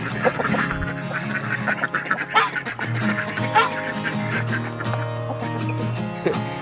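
Ducks quacking repeatedly in uneven bursts, fairly close, with other birdlike honks mixed in and a steady musical or ambient hum beneath.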